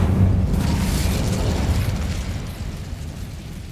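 Incendio fire spell being cast in the Hogwarts Legacy video game, a loud, deep whooshing burst of flame that rumbles and slowly fades.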